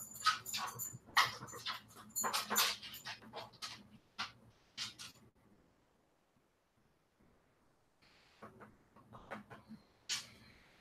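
Restless dogs stuck indoors on a rainy day pant, scrabble and shuffle close by in a quiet room, in busy bursts that fade to near silence midway and then pick up again.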